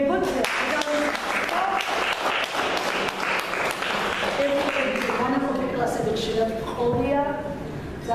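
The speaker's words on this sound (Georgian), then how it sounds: "ტაშ მივეგებოთ" An audience applauds at a book presentation for a poet at the Writers' House, a roomful of steady clapping for about half the time before it thins out and a speaker's voice takes over.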